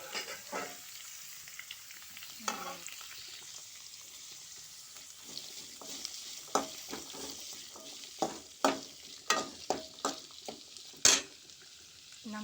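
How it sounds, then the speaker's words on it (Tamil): Finely chopped shallots sautéing in a pan for a mackerel curry, a quiet steady sizzle punctuated by a series of sharp spoon scrapes and clinks against the pan, growing more frequent toward the end. "சின்ன வெங்காயத்தை போட்டு நல்லா வதக்கணும்."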